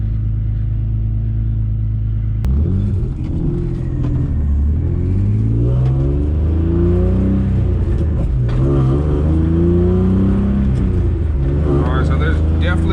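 A BMW E36 sedan set up as a race car, fitted with a chassis-mounted shifter and solid mounts, idles with a deep rumble before short light revs rise and fall several times, close and fairly loud.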